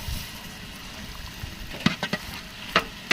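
Tomatoes stirred into frying Ambur-style biryani, with a low sizzle throughout and a few sharp scraping stirs of a ladle against the pot near the end.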